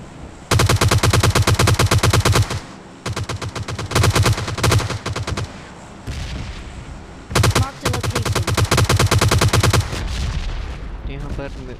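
Automatic gunfire in the battle royale game PUBG Lite during a duo-versus-squad ranked match, with long rapid bursts of shots broken by short pauses, loud and close throughout.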